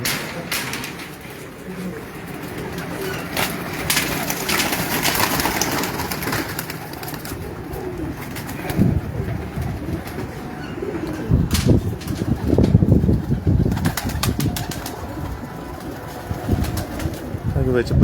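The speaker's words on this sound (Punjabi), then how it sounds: "ਕਬੂਤਰ ਅੱਗੇ ਹੋ ਗਏ" Pigeons cooing softly with scattered wing flaps and chirps, a moderately quiet flock heard close by, with occasional voices.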